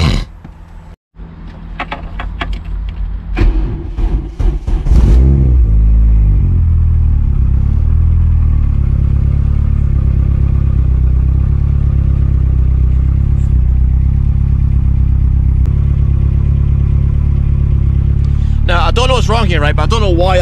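A Corsa B with a turbocharged C20LET engine cranks briefly, catches and settles into a steady, loud idle that runs on and on, with a sharp clatter rising near the end.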